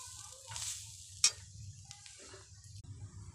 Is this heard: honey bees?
no